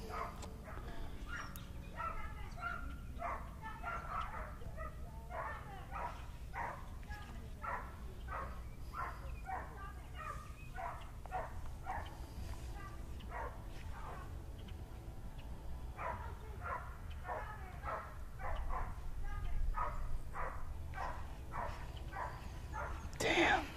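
A dog yips and barks repeatedly outdoors in a lively series of short calls, with people's voices and someone shouting at the animal mixed in throughout.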